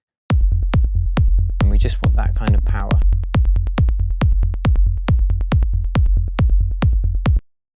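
A sine-wave sub bass synth in a trance track pulses in a steady, evenly spaced rhythm of short, deep notes, with someone talking over the middle stretch.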